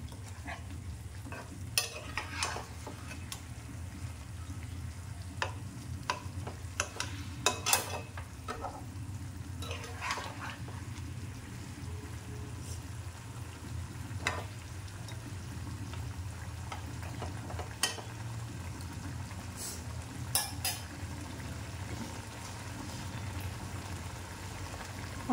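Green chili, ginger and garlic paste frying in a pan while being stirred, a steady low sizzle with scattered scraping and clinking of the spoon throughout.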